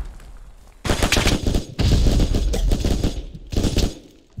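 Bursts of gunfire ring out in Hell Let Loose, a World War II shooter, during trench fighting: loud, close volleys of rapid shots in three clusters separated by brief lulls.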